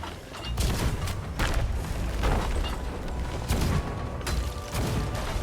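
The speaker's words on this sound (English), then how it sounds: "I can't get over how different the cannons sound." Repeated booming blasts of ship cannon fire in Sea of Thieves, several heavy cannon-like explosions spaced irregularly over a rumbling, busy background.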